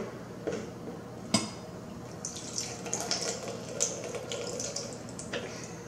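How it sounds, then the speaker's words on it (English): Water splashing out of a 1 gallon TOPIA thermos during an ice retention test, a few knocks followed by an uneven stream pouring nearby. "I'm gonna pour out some of the water here."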